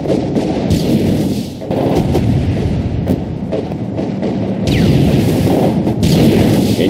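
Dense, continuous artillery and gunfire from the WW2 video game Company of Heroes 2, an Operation Barbarossa battle, with loud booming impacts and crackling shots layered over one another throughout.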